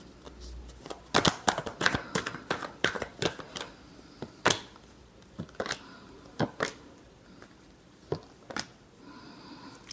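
Tarot cards are shuffled by hand in a series of quick, crisp riffles and taps, close and fairly quiet, in irregular bursts with short pauses between them.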